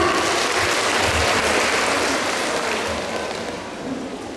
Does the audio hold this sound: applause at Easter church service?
yes